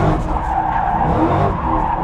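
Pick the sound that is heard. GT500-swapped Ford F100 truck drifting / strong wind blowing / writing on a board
GT500-swapped Ford F100 truck drifting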